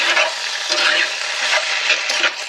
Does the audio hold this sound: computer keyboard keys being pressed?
no